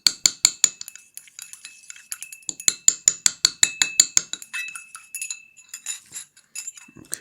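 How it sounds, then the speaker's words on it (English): A glass rod stirs copper sulfate dissolving in water inside glassware, making a quick, rhythmic run of bright clinks and taps that slows and grows uneven toward the end, with no voices. "Okay, now swirl it around, use your glass rod"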